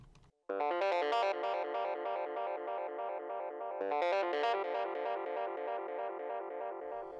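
A bright synthesizer lead plays a rapid, arpeggiated melody with a buzzy, rich tone, loud and continuous with no voices.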